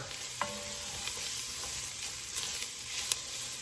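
Shrimp creole cooks in a pot with browning bits on the bottom, a soft steady sizzle with a few light spoon clicks and scrapes, fairly quiet and without talk.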